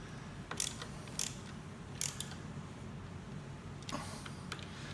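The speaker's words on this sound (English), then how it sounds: "You're going to torque the forward two first." A torque wrench tightening handlebar bolts on a BMW K1600 motorcycle gives several sharp, separate metallic clicks over a low steady background hum, with no talk.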